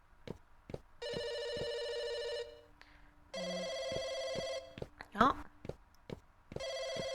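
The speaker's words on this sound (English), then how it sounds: "I hear a phone ringing" An electronic telephone in a video game rings in repeated bursts, each a buzzy trilling ring separated by short pauses, with brief voice sounds in between.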